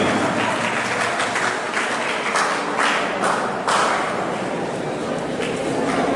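A crowd of teachers at a Teachers' Day event in Darbhanga applauds loudly and steadily, a dense wash of clapping with a few louder surges and some voices underneath.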